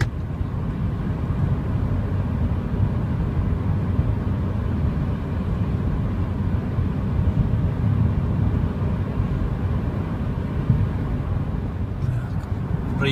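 Inside a 2007 Subaru Legacy 2.0R automatic on 18-inch wheels at highway speed around 110-120 km/h, a steady low drone of road and engine noise fills the cabin, with a few faint clicks near the end.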